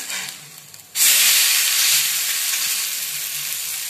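Adai, a protein-rich lentil pancake, sizzles loudly on a hot pan, a steady bright frying hiss that jumps up after a quieter first second and holds without any talking.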